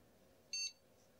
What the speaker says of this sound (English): You can hear a beep.